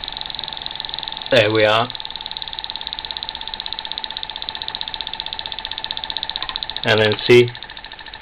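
A small twin Keppe motor drives a little generator with a steady, even electric whine and hum throughout, while someone speaks briefly twice over it.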